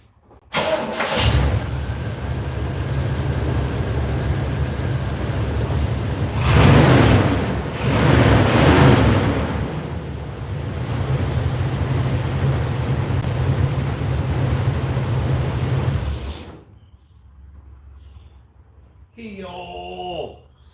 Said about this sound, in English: Let's go ahead and fire it up for Red here.